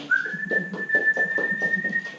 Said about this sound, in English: when he's coming in himself, I'm whistling, so that's conditioning him